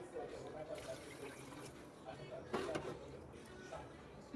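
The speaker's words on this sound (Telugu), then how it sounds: "2 గ్లాస్ వాటర్ పోయాలి" Water is poured from a glass into a pan while making upma, with a continuous splashing, trickling fill and a brief louder surge midway.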